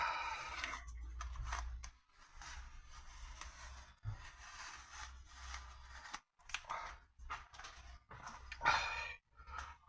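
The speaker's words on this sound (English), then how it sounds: "And then peel off the tape." Tape is peeled off an air trumpet filter on a GT40 build in a series of close, scratchy tearing and rubbing bursts separated by short pauses.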